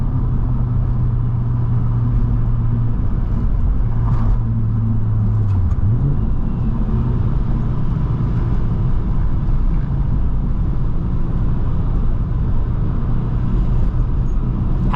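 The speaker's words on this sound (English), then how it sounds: "get the wastegate to open, because that's a crazy sound, unlike anything I've ever heard, ever" A turbocharged manual Volvo S60R drives along a canyon road, its engine humming in a steady, close, low drone for the whole stretch, with a brief shift in pitch partway through but no distinct wastegate burst standing out.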